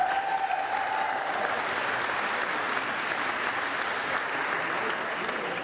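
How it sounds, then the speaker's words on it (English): Audience at a gathering about closing Nashoba Valley Medical Center in Ayer applauding, sustained steady clapping from a large crowd lasting throughout. "Please give yourselves a round of applause for being here."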